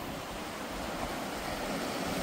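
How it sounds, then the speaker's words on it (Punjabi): Rushing stream water flows beneath a trail bridge on a mountain trail, a steady, broadband roar that stays constant and close throughout, with no talk over it. "ਆਹ ਬ੍ਰਿਜ ਤੇ ਪਹੁੰਚੇ ਆ ਜਿੱਥੇ ਸ਼ੂਕ ਦਾ ਪਾਣੀ ਆ ਰਿਹਾ"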